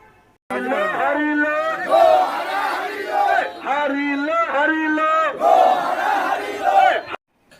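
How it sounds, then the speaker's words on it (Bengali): A crowd at a Trinamool Congress-related political gathering in Khejuri chants a slogan in loud unison, repeating the phrase rhythmically in three or four surges over several seconds before cutting off abruptly. "সেখানে স্লোগান উঠেছে হারিলো রে হারিলো তৃণমূল কংগ্রেস হারিলো"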